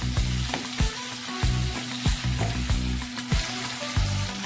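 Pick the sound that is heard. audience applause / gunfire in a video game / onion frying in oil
onion frying in oil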